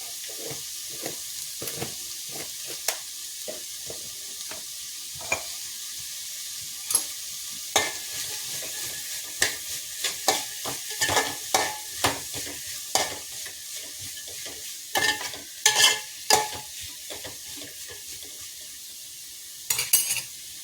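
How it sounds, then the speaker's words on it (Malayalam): Onions sautéed with sugar in a pan, a steady soft sizzle under frequent scraping and clinking of a spoon against the pan, irregular stirring strokes throughout. "നമ്മുടെ സവാളയൊക്കെ നന്നായിട്ട് വഴറ്റി നല്ല റെഡി ആയിട്ടുണ്ട്."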